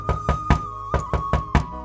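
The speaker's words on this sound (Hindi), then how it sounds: "लाल सिंह के दरवाजे पर एक दस्तक होती है" A knock on a wooden door: a quick series of seven sharp raps in an uneven rhythm, close and loud, with no voices.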